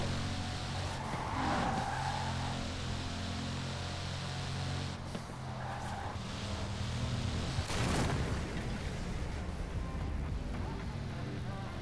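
A car drifting in Forza Horizon 4, engine droning steadily with tire squeal and skidding swells rising in the middle, under someone talking over the game sound.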